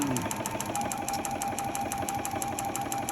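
A sewing machine runs steadily while stitching a quilt block, producing a fast, even mechanical whir with a regular needle rhythm and a constant hum, close and moderately loud with no pauses.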